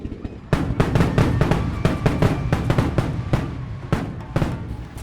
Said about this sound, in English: light up spinning fireworks fixed on pitchforks, dancing to the sound of tribal drums